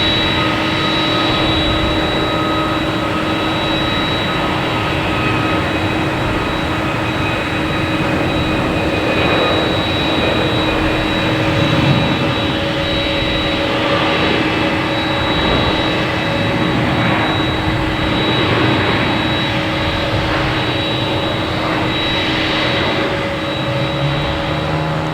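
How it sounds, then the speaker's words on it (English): United Airlines Boeing 737 MAX 8 jet engines at Boston Logan Airport, a loud, sustained turbine roar with a steady high whine running throughout, alone with no talk. "Here is United Airlines 2400 737 MAX 8 heading to San Francisco."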